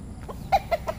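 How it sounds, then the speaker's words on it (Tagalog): Chickens clucking close by on a chicken farm, three short clucks in quick succession over a quiet farmyard background. "Ayan, daming manok."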